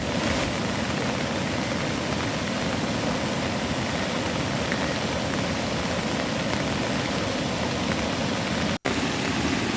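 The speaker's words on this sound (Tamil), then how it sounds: "கன்னியாகுமரி மாவட்டத்தில் பெய்யும் தொடர் மழையால் குழித்துறை தாமிரபரணியில் வெள்ளம்." Heavy, continuous rain falls during flooding of the Thamirabarani river at Kuzhithurai in Kanniyakumari district. It makes a loud, unbroken roaring wash with no voices, cut by one momentary dropout near the end.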